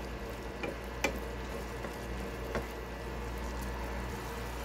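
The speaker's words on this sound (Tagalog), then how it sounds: "Saka lang imikos-mikos insan para umalo yung soy sauce at oyster sauce sa karne ng baka." Beef with soy sauce and oyster sauce is stirred in a pan, a steady low sizzle with a few faint scrapes and taps of the spatula, and no voices.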